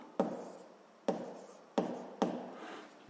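Handwriting on a surface comes through as four quiet, separate strokes, each opening with a sharp touch-down and fading into a soft scratch, with no speech.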